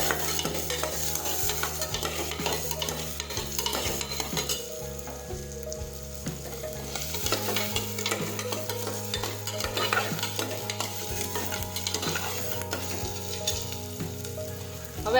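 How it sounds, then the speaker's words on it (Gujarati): Chopped onions sauté in hot oil in a pan for a Gujarati onion, potato and tomato curry, with a steady close sizzle and repeated scraping strokes of a spoon stirring throughout. "હવે આપણે સાતળી દઈશું."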